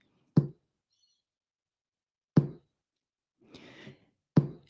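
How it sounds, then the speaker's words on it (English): Three hollow, percussive open-hand slaps across the top of a bottle, evenly spaced and close, with a brief soft rustle between the second and third. "I started off by using this open hand sound across the top of the bottle."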